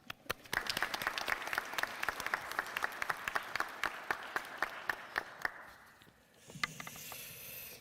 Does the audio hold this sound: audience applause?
yes